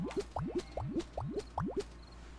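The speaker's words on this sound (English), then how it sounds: "I love that sound. Little bubbles popping." Bubbles pop in the game Little Witch in the Woods, a quick rhythmic run of about eight rising, watery plops spaced evenly, fairly faint and close, with no speech.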